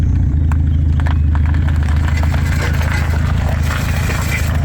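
A K-series-swapped 1987 Honda Civic idles and is given gas as it starts to pull away, a loud steady engine rumble close by.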